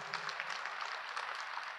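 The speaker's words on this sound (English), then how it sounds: "Can we have a round of applause?" An audience applauding at a film festival fireside chat, steady dense clapping from a crowd throughout, moderately loud and continuous with no talk over it.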